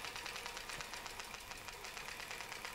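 A sewing machine runs steadily while stitching along a quilting template toward a marked line, its motor buzzing in a fast, even rhythm close by with no pauses.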